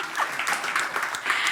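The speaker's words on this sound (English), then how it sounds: "I hope you can hear that cheering and snapping" Audience at an online conference cheering and snapping, a dense scatter of bright snaps and claps with faint voices mixed in, continuous and moderately loud.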